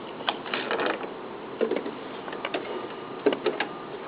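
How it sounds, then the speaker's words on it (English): A sewing machine's hand wheel is turned slowly by hand, giving soft irregular mechanical ticks and clicks in short bursts, quiet and close, with no talking. "Look what happens when I hold the thread and turn the wheel of the sewing machine"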